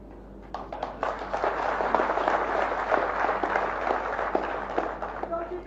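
A large crowd claps and cheers steadily for about five seconds at a Marathi political rally in Maharashtra. The dense, continuous roar of applause stays at a fairly even level throughout.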